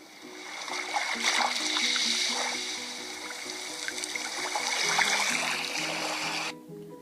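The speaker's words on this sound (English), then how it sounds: "it does come with gentle waves." Gentle rushing ocean waves from a sleep app, soft waves washing in, layered over a calm repeating melodic tone, steady and soothing before cutting off near the end.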